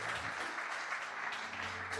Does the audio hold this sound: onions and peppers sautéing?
no